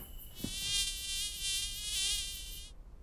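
High, whining buzz of cartoon mosquitoes droning steadily for nearly three seconds, then cutting off abruptly, in an animated children's show.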